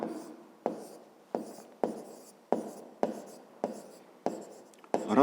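Chalk or pen writing a maths equation for a fifth-grade exercise: a run of about ten quick scratching strokes in an uneven rhythm, each starting sharply and trailing off, close and quiet.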